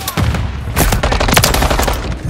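Call of Duty gunfire: rapid, loud automatic bursts close by, with dense overlapping shots firing almost continuously over a low rumble.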